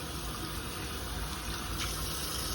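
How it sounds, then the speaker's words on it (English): Running tap water splashing over hands in a sink as soap is rinsed off, a steady close hiss and patter with no pauses and no voices. "rinse off the soap."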